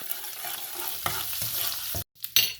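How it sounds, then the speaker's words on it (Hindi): Onions dropped into hot oil for Lahori chana masala hiss and sizzle steadily, with a stirring scrape or two and a sudden brief hush before the frying surges again. "अब ये गोल्डन होता है तो मैं प्याज डालती हूँ"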